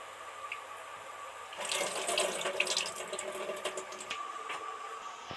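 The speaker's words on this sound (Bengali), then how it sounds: "এবার ভালো করে ধুয়ে ওই গরম জলের মধ্যে সবার আগে ডালটাই দিয়ে দেব" Soaked lentils being washed under a running tap, with water splashing and rinsing for a few seconds after a quieter start, fairly soft and close, with no voices.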